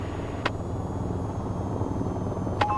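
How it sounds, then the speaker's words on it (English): Steady helicopter rotor and turbine drone in the VTOL VR flight game as power is advanced toward flight setting, a continuous low rumble with a thin high whine, even in level with two faint brief clicks. "You can advance the power lever all the way forward to flight power. Watch the rotor RPM rise."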